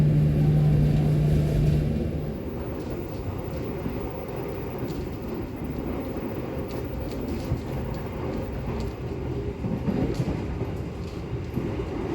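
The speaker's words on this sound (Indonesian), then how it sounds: "kereta api Kamandaka telah tiba di stasiun Pekalongan" The Kamandaka long-distance train arrives at Pekalongan station, a steady low rumble and rolling hum of railcars that stays even and moderately loud throughout, with a short tonal note at the start and no voices.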